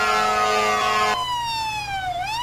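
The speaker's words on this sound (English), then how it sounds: "I got the siren fixed, let's roll." Fire truck siren from the GTA 5 video game, a loud continuous electronic wail sweeping down in pitch then rising again, heard alone with steady engine rumble beneath.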